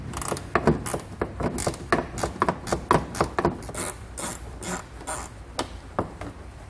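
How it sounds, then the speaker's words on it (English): Ratchet with a 10mm socket loosening a bolt in the wheel well of a 2020 Jeep Cherokee, rapid close clicking strokes in quick repeated bursts, no voices. "we want to grab a 10mm socket, and we'll loosen it up, pull that bolt out"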